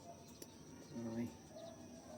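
Racing pigeons in a breeder loft give a brief, faint coo amid quiet background noise, a single soft call near the middle.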